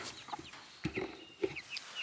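Several chickens cluck in short, irregular bursts inside a coop with a thin plywood floor set on wet grass, the sounds close and moderately loud over soft background noise with no talking.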